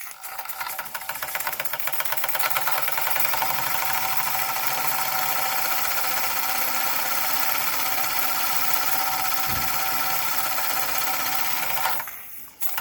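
A small model steam engine with a stiff new governor running steadily, giving a continuous rapid mechanical chatter at an even level. It stops abruptly near the end.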